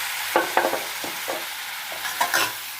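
A shrimp stir fry with salt and fresh chili being stirred in a hot pan, loud close sizzling with a few quick scraping strokes of a spatula, no voice.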